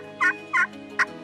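A two-sided wooden turkey box call imitates turkey hen yelps, with three short raspy bursts in an uneven rhythm, two strong and one shorter, played close and loud over a quiet background.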